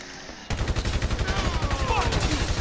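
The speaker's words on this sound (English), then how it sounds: "I'm just shooting like I don't care" Sustained rapid gunfire in a Grand Theft Auto game starts abruptly after a brief quieter moment, then continues as a loud, evenly paced automatic burst.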